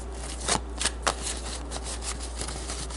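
Cards shuffled up close, with a few quick riffling bursts and soft rustles between them.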